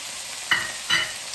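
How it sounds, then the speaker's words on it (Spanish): Peppers, zucchini and onion stir-fried with tofu and broccoli in a hot pan, giving a steady sizzle with two short stirring scrapes that stand out, no talking. "Ahora pues ya voy a agregar los pimientos, la calabacita y la cebolla"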